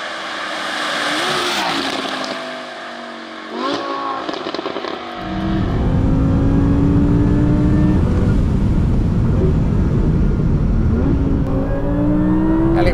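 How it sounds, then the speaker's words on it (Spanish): Audi R8 GT MTM V10 engine revving and accelerating on a damp road, a series of loud rising pulls and gear changes that build into a sustained, close roar. "El sonido de su V10 es digno de la mejor orquesta"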